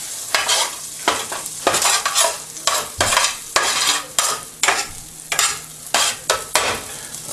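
Margarine melts in a hot pan. Loud, close scraping strokes come in a steady rhythm of about one per half-second over a sizzling hiss, with no voices.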